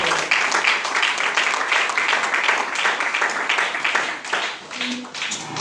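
A church congregation applauding during a seminar service: sustained, dense clapping from many hands that holds steady for several seconds, then thins slightly and swells again near the end.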